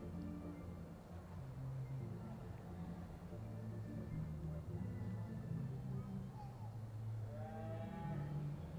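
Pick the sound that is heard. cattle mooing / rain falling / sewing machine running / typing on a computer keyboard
cattle mooing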